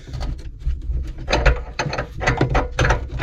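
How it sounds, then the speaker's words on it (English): A box spanner works on plumbing nuts with a run of close, dry metallic clicks and ratcheting scrapes in uneven bursts, and no one speaks. "I just use my box spanner."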